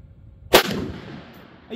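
A Ruger SFAR rifle in .308 fires a single sharp, loud shot, with a sudden crack followed by a decaying echo.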